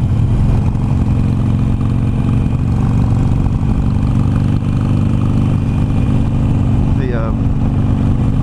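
A Harley-Davidson Iron 883 motorcycle rides along at sunset, its engine a steady loud drone with constant wind rush close to the rider, unbroken throughout.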